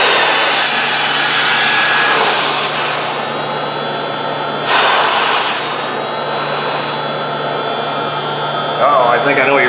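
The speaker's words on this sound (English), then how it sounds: "So hear that motor deadheaded, hear what that sounds like?" Mazda RX8 secondary air pump motor running deadheaded, a loud, steady electric whine with a high-pitched buzzing tone, close to the microphone, with brief surges in intensity.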